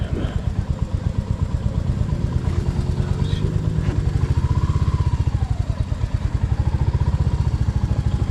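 A motorcycle engine runs near and loud during an MSF rider training course, with a steady fast thrum as the throttle is held open, and a voice is faintly audible over it.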